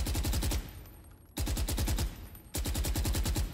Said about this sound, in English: So Counter-Strike, M4. Pretty straightforward weapon.